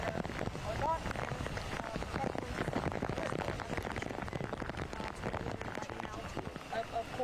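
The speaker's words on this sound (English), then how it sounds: "So it's obviously pouring rain where Aaron is" Heavy rain pours steadily during severe weather, a dense broadband hiss of drops hitting surfaces with no letup, fairly faint and distant-sounding throughout.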